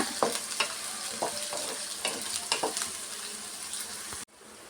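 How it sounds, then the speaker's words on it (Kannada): Curry leaves and broken dried red chillies fry in hot oil with a bright, close sizzle broken by repeated stirring scrapes, then cut off abruptly near the end. "ಎಲ್ಲ ಸೇರಿಸಿ ಚೆನ್ನಾಗಿ ಆಯಿಲಲ್ಲಿ ಫ್ರೈ ಮಾಡ್ಕೊಂಬಿಡೋಣ"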